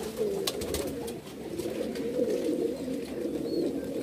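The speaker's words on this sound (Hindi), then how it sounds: "आज जिनका मैं शौक करवाऊँगा वो सारे कबूतर ये हैं" Pigeons of varied fancy breeds cooing together in a loft, overlapping low throaty coos rolling continuously at moderate loudness, with a few faint higher chirps and no talk.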